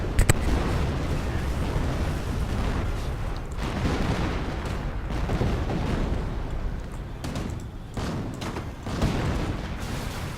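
Artillery barrage in the World War II game Company of Heroes: continuous rumbling explosions and distant booms overlap into a dense, steady roar, with a few sharper blasts standing out.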